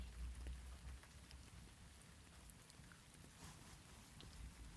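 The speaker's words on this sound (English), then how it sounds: "Guys, it's raining." Steady rain falls outdoors over a backyard vegetable garden, a soft, even patter of drops heard alone and faint throughout.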